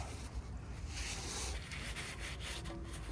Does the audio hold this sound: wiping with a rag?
yes